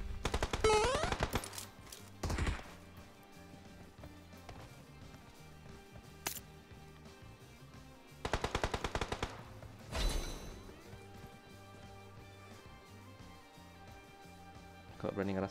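Gunfire in the PUBG Mobile video game, with rapid automatic bursts and single shots that come and go at close range, loud crackling volleys amid quieter stretches, while a player talks over them.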